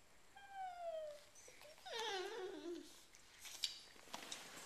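A small dog whimpers in thin, high, drawn-out whines that rise and fall, soft and close in a quiet room, with a few faint knocks after.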